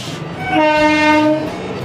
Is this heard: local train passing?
yes